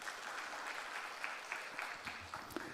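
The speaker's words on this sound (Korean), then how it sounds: "하나님께 영광의 박수 올려드리겠습니다." Congregation applauding in a church service, a steady wash of many hands clapping at moderate distance with a few sharper individual claps standing out.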